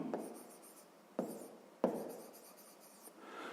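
A pen scratches across paper while someone writes out a sixth-grade math exercise, with soft continuous strokes broken by a few sharper taps and pauses between words, fairly close and quiet, with no talking.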